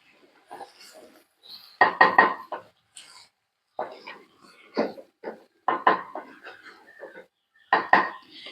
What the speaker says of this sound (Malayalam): തൈരും കൂടെ ഒന്ന് ഒഴിച്ചു കൊടുത്തിട്ട് മൊത്തത്തിലൊന്ന് മിക്സ് ചെയ്യാം